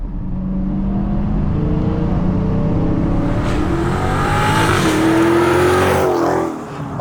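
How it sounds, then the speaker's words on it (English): A 2021 Chrysler 300 SRT Pacer with a 6.4L V8 HEMI accelerating hard: a loud, close engine roar climbs steadily in pitch through the revs for about six seconds, then cuts off abruptly. "When you step on this car, it just hauls throughout the entire rev band"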